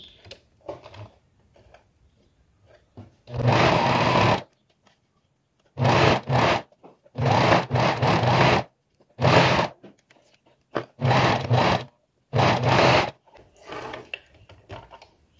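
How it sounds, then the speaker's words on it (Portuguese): A sewing machine stitches an apron seam in several loud, close bursts of a few seconds each, separated by short pauses of near silence. "Deixa eu trazer de volta a máquina e vamos passar aqui a costura"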